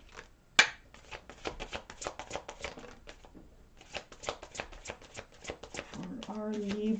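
Tarot cards being shuffled for a reading, a rapid run of crisp riffling snaps in bursts with a short pause, under a faint voice near the end.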